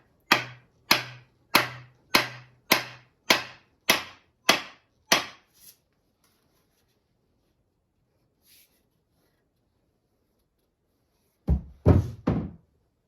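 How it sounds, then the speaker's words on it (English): A hammer drives a wedge into the kerf of a tool handle while hafting, with nine sharp, evenly spaced close taps, a pause, then three heavier blows. "A couple of taps up, just to get that tension going, and then really drive it home."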